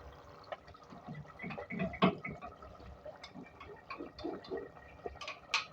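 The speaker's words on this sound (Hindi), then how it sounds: "अब देखिए इसके अंदर हम 1 कप पानी डालेंगे" A cup of water is poured into a pot of cabbage, potato and pea curry, giving a close bubbling, gurgling splash with irregular sloshes.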